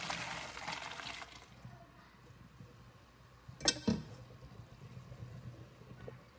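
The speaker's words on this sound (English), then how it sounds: "So I'm going to pour it, just strain it." Cooked linguine pasta and its hot water are poured into a strainer, water rushing and splashing steadily at first, then settling into a quieter drain with a brief clatter in the middle.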